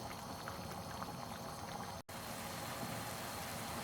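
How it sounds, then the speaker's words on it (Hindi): Rice for matar pulao simmering in water in a pot over a medium flame, a steady close bubbling hiss that continues evenly without talk. "मीडियम फ्लेम पे चावल हमारे पक रहे हैं।"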